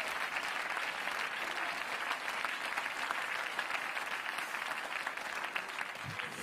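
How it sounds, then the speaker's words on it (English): Church service congregation clapping their hands together in a continuous, dense round of applause lasting several seconds, steady and moderately loud with no one speaking over it. "Somebody clap your hands to the Lord right now."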